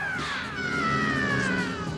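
A shirtless actor in a martial arts film lets out cat-like vocal cries: a voice imitating a cat, with rising and wavering yowls held steadily for about two seconds, loud and close over a busy soundtrack.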